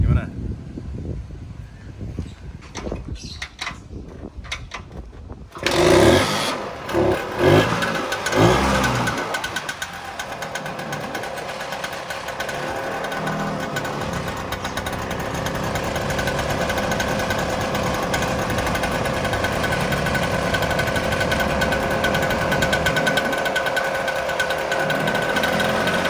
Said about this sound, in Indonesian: Sekarang kita buktiin yuk, kita hidupin nih motor.